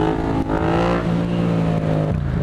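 Motorcycle engine held at a steady drone during a clutch-up wheelie hop, loud and close with a brief dip in pitch as the clutch is worked.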